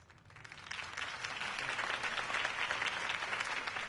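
Crowd applause after a campaign speech in a Batman video game swells from quiet into a broad, steady wash of clapping that holds at a moderate, somewhat distant level.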